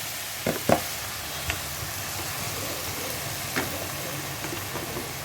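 Boiled, shredded chicken dropped into a pan for a crispy chicken kachori filling, with a couple of sharp knocks near the start, a few lighter taps later, and a steady sizzling hiss throughout.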